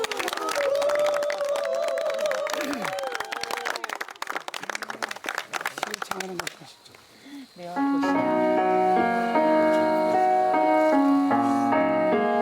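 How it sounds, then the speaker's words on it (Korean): Loud audience applause and crowd noise welcome a performer at a storytelling show, dense clapping for several seconds that thins out before instrumental music begins. "두향이를 큰 박수로 모셔보겠습니다"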